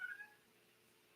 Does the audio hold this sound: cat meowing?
yes